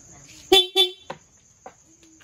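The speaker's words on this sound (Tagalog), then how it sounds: "Stockhorn." Stock horn on a first-version Yamaha Aerox scooter gives two short, loud honks in quick succession, followed by a few faint clicks and a low hum.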